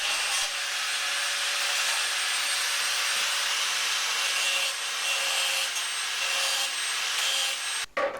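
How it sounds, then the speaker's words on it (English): A spherical grinding wheel finishes the welded edges of a camper van's underside slam panel, giving a loud, continuous abrasive whine that holds steady for several seconds before cutting out abruptly at the end. "and then just finished off the edges with this spherical grinding wheel, which looks a bit like a lollipop."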